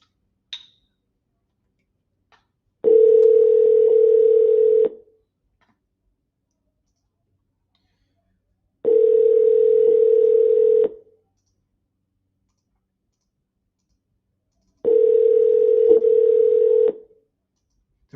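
Steady tone bursts repeat in a telephone ringback cadence on a call over speakerphone, each about two seconds long with roughly four seconds of silence between, three rings in all, heard alone with no talk.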